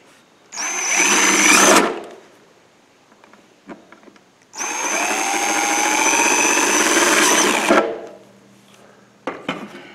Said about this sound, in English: I'm gonna drill a couple of drainage holes.